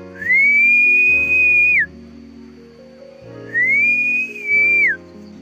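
A person whistles two long, steady notes with a pause between them, each ending in a quick downward slide, clear against quiet background sounds.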